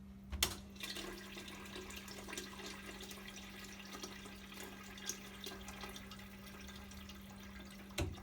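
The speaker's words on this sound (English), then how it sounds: "we need to pour 10 litres this time from each dispense head" Liquid streams steadily from a Britvic Spire post-mix dispense head, a continuous soft gushing with a low mechanical hum and a few clicks at the start and end.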